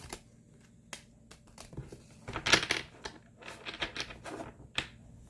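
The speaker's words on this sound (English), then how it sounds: "These cards are a little bit stiffer than the other cards that I'm used to shuffling" Stiff playing cards being shuffled by hand: a string of close, crisp riffling snaps and flicks in irregular bursts, with quiet gaps between.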